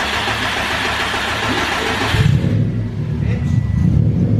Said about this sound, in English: she cranked and then she started